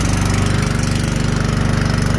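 A small engine driving a pump on a 275 gallon trailer runs with a loud, steady, close chugging throb and no voices.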